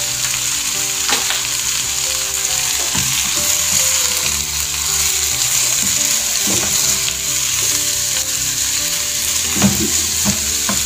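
Pasta ingredients with bell pepper stir-fried in a pan for sweet and sour shell pasta, giving a loud, steady sizzle throughout with repeated clacks and scrapes of the spatula.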